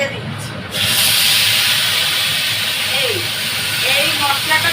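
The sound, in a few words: spice mixture added into pan with peas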